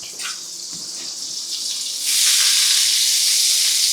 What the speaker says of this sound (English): So we're going to throw some butter in there.